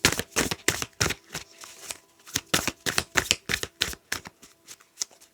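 A deck of oracle cards being shuffled, giving a steady run of crisp riffling bursts in quick rhythm across several seconds, close and clear with no talking.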